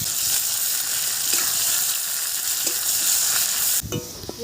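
Dry red chilli, five-spice seeds and a small onion fry in mustard oil in a kadai, giving a continuous loud hiss with occasional faint stir scrapes before an abrupt clunk near the end.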